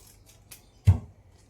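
Scissors cut colorful paper for making paper soap: a few soft, faint snips and then one sharper, close cut, heard alone.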